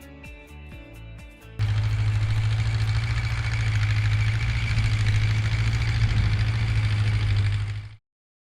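A DCEC Cummins 6B5.9 series industrial construction diesel engine starts up after a short musical intro and runs with a loud, steady low rumble and knock for about six seconds before cutting off abruptly.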